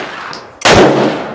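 A single sharp carbine shot at an outdoor range cracks loudly at a clay pigeon target, its report ringing and decaying over the following second.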